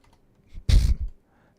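A quick flurry of computer keyboard keystrokes, one brief close burst of clicking and tapping in a quiet room.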